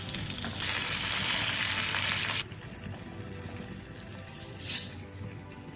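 Bottle gourd leaves sizzle loudly in a thin layer of hot oil for lote fish, a broadband frying hiss that cuts off sharply after a couple of seconds, leaving a faint crackle and a brief soft splash-like burst.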